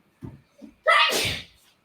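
A single sharp sneeze, close and loud, preceded by a couple of small soft sounds.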